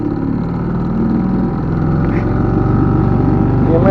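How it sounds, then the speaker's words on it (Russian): A small outboard boat motor runs steadily on a fishing trip, a loud close droning hum that holds even throughout. "Наш моторчик."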